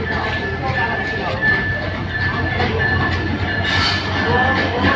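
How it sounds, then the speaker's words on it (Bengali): Ekota Express, bound for Panchagarh from Dhaka, rolls into Natore railway station: a steady rumble of rail cars and wheels with a thin, sustained squeal, continuous and fairly loud for the whole stretch, with some voices in the background. "ঢাকা থেকে ছেড়ে আসা পঞ্চগড়গামী একতা এক্সপ্রেস এই মুহূর্তে নাটোরে প্রবেশ করছে"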